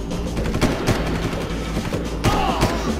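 Sharp gunfire bursts in Far Cry crack repeatedly against a constant background of game music and noise, with a few heavier thuds mixed in.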